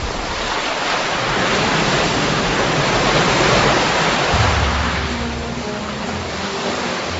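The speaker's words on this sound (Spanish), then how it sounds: "De ambos lados se precipitaron las masas de agua y sepultaron a los egipcios." Sea water crashes down in a loud, continuous roaring surge of broadband noise, holding steady throughout with a slight low rumble shift near the end, no voices present.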